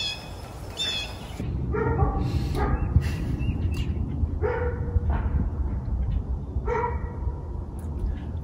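A dog barks repeatedly indoors, several sharp yips and barks spaced irregularly over a constant low background hum, fairly close and clear, with no one speaking.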